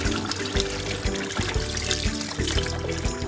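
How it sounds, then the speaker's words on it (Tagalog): Beef washed under running water: a steady trickle and splash of water with rhythmic handling knocks, close and fairly loud, with no voices. "hugasan muna natin yung ating beef para matanggal yung mga blood"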